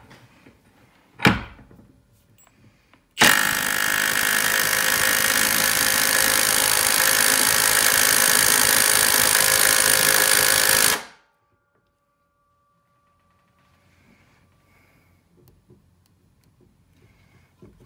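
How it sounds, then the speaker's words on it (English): A Milwaukee M12 Fuel 3/8-inch stubby impact wrench on speed 3 in auto loosening mode, working a bolt rated at about 150 foot-pounds: one brief knock, then roughly eight seconds of loud, steady, dense hammering that stops abruptly. "put that on the gun, and we'll go in speed 3"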